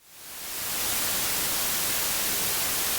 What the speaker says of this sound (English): White noise, which can be described as including all frequencies at equal levels.